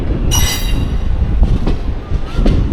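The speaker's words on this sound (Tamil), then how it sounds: "ட்ரெயின் தாம்பரத்துலேருந்து கிளம்பி போயிட்டுருக்கு" Passenger train rolling out of Tambaram station on the way to Guruvayur, Kerala, heard as a loud, steady rumble of wheels on rails with a high metallic squeal early on and a few sharper clanks, no talking.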